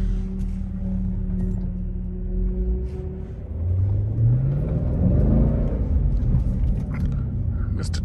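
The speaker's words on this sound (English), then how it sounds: "This is what it's like to live here, man. Nothing but traffic all day long." Car traffic on a snowy road heard from inside a vehicle: a steady low engine rumble and road roar that swells as the car accelerates, with no talk.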